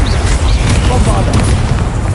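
Bombarda blasting spell in the video game Hogwarts Legacy, a dense, sustained booming explosion with rumbling low end and crackling debris filling the whole moment, loud and close.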